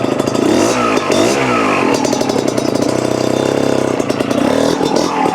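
A Beta TR34 trials motorcycle revs hard as the rider hops the front wheel, with sharp throttle blips and a buzzing two-stroke engine rising and falling over a few seconds, close and loud.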